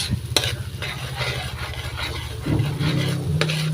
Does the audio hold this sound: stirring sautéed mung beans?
yes